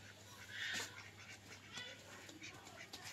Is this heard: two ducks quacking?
yes